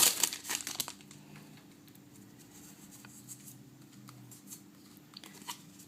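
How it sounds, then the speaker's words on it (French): Foil wrapper of a Pokémon Palkia booster pack being torn and crinkled open, a burst of loud close rustling at the start that fades into faint, sparse crinkles over a quiet hum. "Ils sont pas évidents à ouvrir ces boosters."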